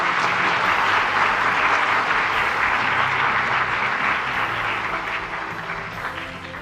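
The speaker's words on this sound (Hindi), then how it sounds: "उनके लिए तो थोड़ा तालियां बजाएं।" A large indoor audience applauds at a children's national award ceremony, loud dense clapping sustained throughout and fading slightly near the end.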